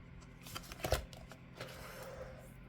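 Tarot cards being handled and laid down over others during a reading: a short, soft flurry of papery shuffling and slapping, close but quiet, with no talk.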